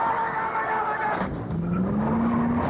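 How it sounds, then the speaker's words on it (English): Race cars pile up on a track, a loud continuous roar of engines and skidding tires with a rising whine toward the end, dense and close throughout. "Watch the race car pileup happen right before your very eyes."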